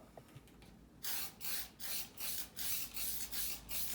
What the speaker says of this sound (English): We're just going to do a light spray on this thing